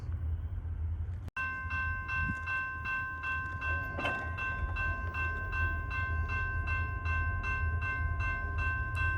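A train nearing a rebuilt railroad crossing, its steady rumble and rhythmic clatter continuous and moderately close, with a sharp bang early on and a tonal ringing layered over the passage.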